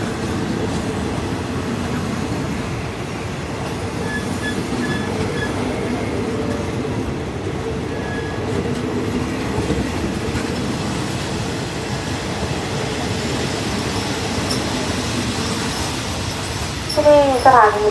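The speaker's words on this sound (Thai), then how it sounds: "ที่ยวที่6ของขบวนรถเร็วที่167นะครับวันนี้ทำขบวนโดยอันต้อมนะครับ อันต้อม4410นะครับรุ่น ADD นะครับ" Thai rapid train 167 hauled by an Alsthom 4410 locomotive rumbles past nearby, a steady loud roll of wheels and carriages with a brief squeal and rise in level at the end; a voice speaks over it.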